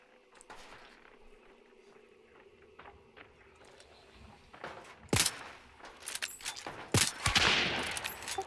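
Sharp gunshots from Hunt: Showdown crack out after a quiet, footstep-like stretch, with a few loud isolated reports near the middle and a burst of clatter and noise toward the end.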